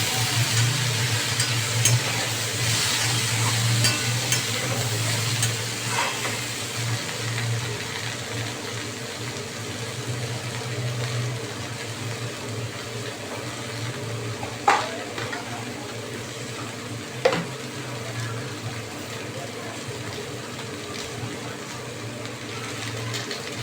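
Grated garlic frying and being stirred in a pan while a paneer dish is cooked, a steady close sizzle with soft scraping and a couple of sharp utensil knocks near the end.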